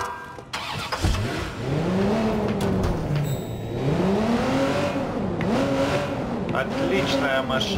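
A car engine in Watch Dogs 2 starts and revs repeatedly, pitch climbing and falling in several rising sweeps, with a voice talking over it.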